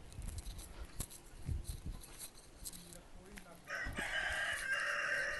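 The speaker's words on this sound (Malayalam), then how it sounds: "ആ എന്താ കോഴിക്കളൊക്കെ ഉണ്ട് ഇവിടെ." A rooster crows loudly amid clucking chickens on a farm in Saudi Arabia, the crow rising strongly in the second half over continuous bird noise while people talk nearby.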